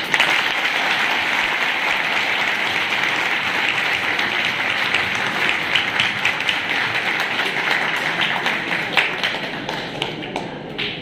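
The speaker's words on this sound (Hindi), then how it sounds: "अरे ताली बजा दीजिए।" An audience at a Saraswati Shishu Mandir school honouring ceremony in Pakkibag claps continuously, a dense, even wash of many hands that holds for several seconds before thinning out at the end.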